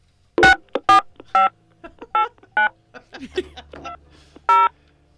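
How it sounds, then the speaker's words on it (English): A series of telephone keypad tones, short beeps pressed one after another at an uneven pace with brief pauses, clear and close. "I'm not sure which buttons to push. I'm just pushing buttons."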